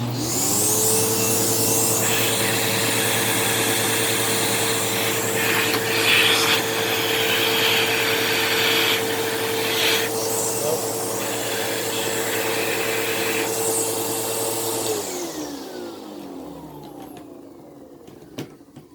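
A Shark Navigator Freestyle SV1106 vacuum cleaner motor runs loudly and steadily with a constant whine, then spins down and fades out near the end.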